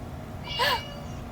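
A single short cat meow, a clear rising-and-falling cry lasting about a quarter second, heard moderately loud over faint background noise.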